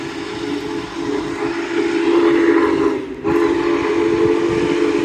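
Union Pacific Big Boy 4014 steam locomotive passing through Claypool, Indiana, blowing its deep, chime-like steam whistle in a loud sustained blast with a brief break, over the rumble of the train.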